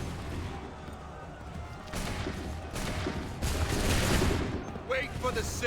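Volley of musket fire from Assassin's Creed 3, several bursts of massed shots crackling in succession, growing louder toward the end with shouted voices mixed in.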